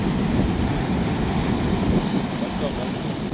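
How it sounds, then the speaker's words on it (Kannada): Sea waves rolling ashore along a coastal beach, a steady broad wash of surf with wind rumble across the microphone, continuous and fairly loud throughout. "ಹೆಂಗ್ ಬರ್ತಾ ಇದೆ ಅಲೆಗಳು"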